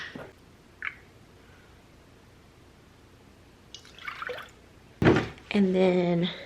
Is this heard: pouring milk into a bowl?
yes